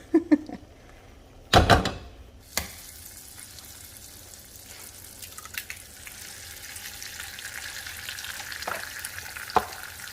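Eggs frying in a pan for a huevos rancheros breakfast: a soft, steady sizzle runs underneath, with a few sharp clatters and knocks near the start and a faint click near the end.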